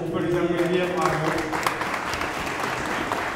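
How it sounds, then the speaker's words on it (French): A festival audience applauds the jury members, a moderate burst of clapping that starts under a voice and continues on its own for a few seconds at a fairly quiet level. "On peut les remercier, on peut les applaudir."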